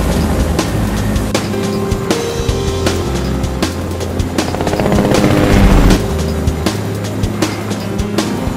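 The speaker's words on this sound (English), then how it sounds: "Benefits of having a chopper, I suppose." A helicopter in the video game Fortnite flies with a dense, loud mechanical drone and rapid rhythmic rotor chopping, joined by sharp clicks and thumps over several seconds, with no talk.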